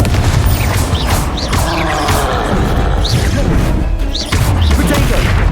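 Confringo spell blasts in Hogwarts Legacy combat, loud dense crashing bursts and whooshing impacts layered over continuous battle noise, close and full throughout.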